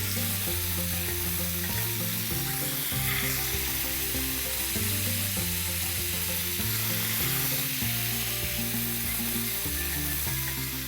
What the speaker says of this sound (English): now simply place the marinated pieces on the pan